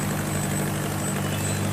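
A boat engine runs steadily in the engine room of a bagan fishing vessel, giving a constant low droning hum with a harmonic rumble and no breaks or pauses.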